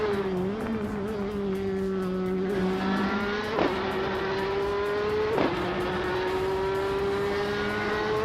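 A 2015 Audi R18 e-tron Quattro race car in a racing game holds a steady high-pitched engine drone, with the pitch dipping sharply at two gear shifts before climbing on.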